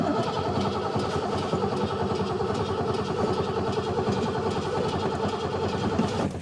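Ford plow truck engine cranking and running rough on a cold start, a loud continuous chugging rumble heard close up with no talking.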